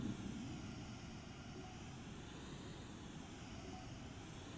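A thruster fires in the space game Astroneer as a steady, even roar of rushing jet-like noise. It holds at a constant level throughout and is heard alone without any talking.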